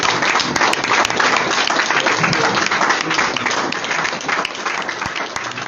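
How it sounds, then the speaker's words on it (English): A standing audience claps loudly and continuously for a leader at an event, dense applause holding steady throughout before easing slightly toward the end. "Rise up and clap for leader."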